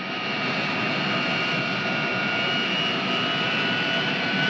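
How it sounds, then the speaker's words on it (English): An arriving airliner's jet engines roar steadily and loudly throughout, with a constant whine layered over the broad rumble and no voices. "And here comes the airliner bringing the Russian delegate, Comrade Krasnov"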